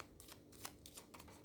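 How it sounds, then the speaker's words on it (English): Paper cash envelopes being shuffled by hand, a run of quick, soft papery riffles and flicks recurring through the brief moment at close range, with no voices. "So let's shuffle these up."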